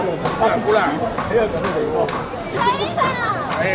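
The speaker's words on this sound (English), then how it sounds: "you will hear the bing, bing, bing, bing, bing, the knocking. You know they're selling silver." Hammers strike silver in a busy silver shop by West Lake in Hangzhou, China, giving a run of bright, ringing metallic knocks at an uneven quick pace, close and clear, with crowd murmur behind.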